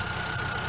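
The 1.4-litre engine of a 2011 Chevrolet Agile idles after coolant additive was added, giving a steady, close, low rumble with a faint rhythmic knock and no voices over it.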